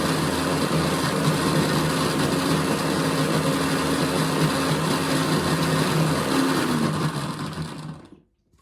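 A blender whirs loudly and steadily, close by, blending lemon, ginger and garlic with water, then spins down and stops near the end.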